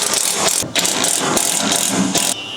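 A half door on a Kawasaki side-by-side being fitted and latched, with loud metallic clacks and ratcheting rattles in quick irregular bursts close to the listener.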